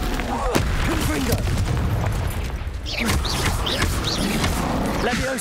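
Confringo fire-blast spell explosions in Hogwarts Legacy, repeated booming bursts over a thick roaring battle bed, with a voice calling out spells between them.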